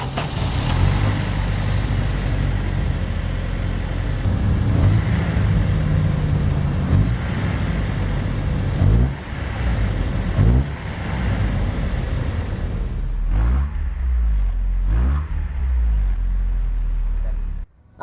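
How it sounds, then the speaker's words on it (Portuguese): A 1995 Chevrolet Astra GLS engine runs steadily at a close, loud level, with a continuous low mechanical drone. A brief dip near the end gives way to a quieter idle with a few short interruptions. "Vamos fazer start engine dele já para vocês verem a máquina em funcionamento"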